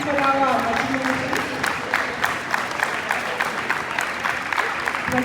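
Crowd applause at a community sports event for Rwandans living in Canada, a steady dense clapping that fills the whole stretch with some cheering mixed in, under a brief spoken announcement.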